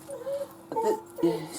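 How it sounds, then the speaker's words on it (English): A dog whines softly in a few high, drawn-out whimpers, somewhat distant and faint. "excuse my dog whining in the background"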